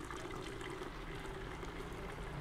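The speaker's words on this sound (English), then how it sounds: "now pour your water high" Water poured from a height while making Thai milk tea, a continuous close splashing stream with a steady, even hiss and no talk.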